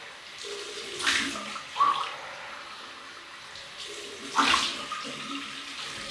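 Cold tap water running for a rinse after a wet shave with a Parker Solo Edge SE razor and ARKO shaving soap, a steady faint splashing flow with a couple of louder gushes as hands pass through the stream.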